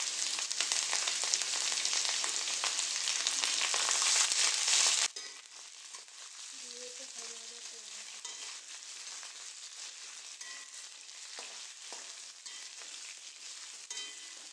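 Carrot and onion fry for vegetable fried rice, a loud dense sizzle for the first five seconds, then a softer crackle with scattered stirring scrapes and small clinks, close by and with no voices.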